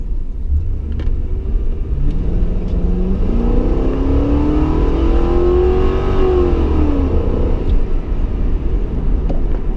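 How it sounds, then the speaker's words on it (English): A Ford Crown Victoria accelerates hard on a main road, its engine note rising steadily through the gear, loud and close with heavy low rumble and road noise from inside the car. "Try to get into a main road like this, you know, step on it, see how the car rides."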